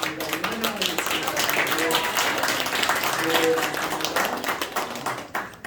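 A Korean church congregation claps to welcome a new member during a Sunday service, a lively sustained patter of many hands in a room with speech running over it.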